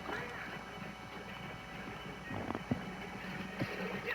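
Horse hooves clop in a video game, a soft rhythmic patter with a few sharper knocks toward the end, low in level beneath someone talking.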